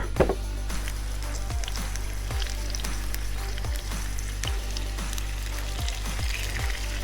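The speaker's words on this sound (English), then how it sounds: "Oh yeah, let that sizzle." Chicken sizzles in olive oil in a hot pan, a steady close crackling hiss laced with faint pops over a low constant hum, with no talk.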